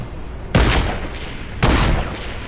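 Two loud, sharp semi-automatic gunshots from a video game, about a second apart, each with a short burst and a brief decaying tail.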